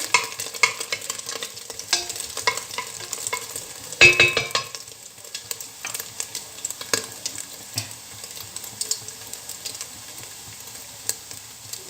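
Lamb meat sizzles and crackles in suet in a hot pot while a utensil scrapes and stirs it, with a sharp burst of sizzle partway through; no talking.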